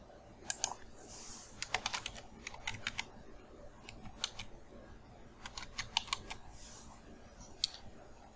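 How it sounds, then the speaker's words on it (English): A heading is typed on a computer keyboard in bursts of quick, clicky keystrokes separated by short pauses, close and clear with no talking. "We can just type here for our heading."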